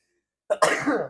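A person sneezes once, close by: a short sharp catch and then a loud, breathy, explosive burst that fades quickly.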